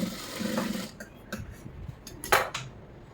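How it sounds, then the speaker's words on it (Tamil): Short bursts of a sewing machine stitching a lined blouse, with a soft mechanical whir followed by a few quiet clicks and handling taps, close and fairly faint. "இப்போ இங்கேருந்து தையலுக்கு போட்டுடுறோம்"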